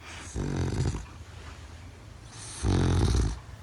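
A person imitates a dog snoring: two long, low, rattling snore sounds separated by quiet breathing, close and fairly loud.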